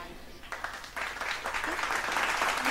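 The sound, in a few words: audience applause welcoming a dance troupe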